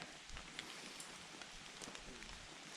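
Light drizzle falling near a pond outdoors, a soft steady patter of small drops with scattered closer ticks, faint and continuous.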